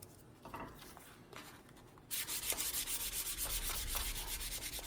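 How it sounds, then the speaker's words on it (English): Sandpaper rubs over the burned wood of a hammer handle in fast, even back-and-forth strokes, close and fairly quiet, following a few softer scuffs at the start. "by sanding it, it's gonna smooth it out a little bit"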